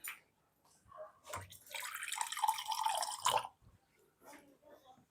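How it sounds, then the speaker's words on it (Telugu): Water splashes and trickles steadily into a pot for about two seconds, with brief clinks before and after. "కొంచెం వాటర్ వేసుకుందాం"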